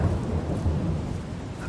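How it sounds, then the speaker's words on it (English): Steady rain with a low thunder rumble in Farming Simulator 22 during a corn harvest on the Griffin Indiana map, a dense continuous wash that stays loud and even throughout. "I think we're going to have to speed up time a little bit to get rid of this rain."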